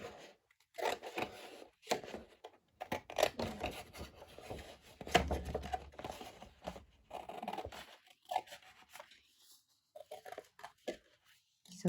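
Scissors cut through a 12x12 sheet of paper along a score line, giving close, quiet rasping snips in irregular bursts with short pauses between strokes.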